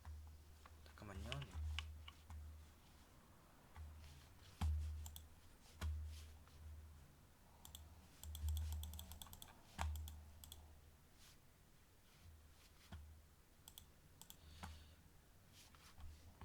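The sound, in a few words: computer mouse and keyboard clicking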